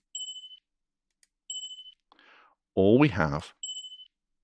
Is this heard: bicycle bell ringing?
yes